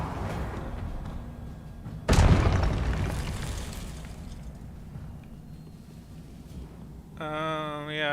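A Confringo fire spell detonates in Hogwarts Legacy: a sudden loud boom bursts about two seconds in and rumbles away, followed later by a bright, shimmering tonal game effect.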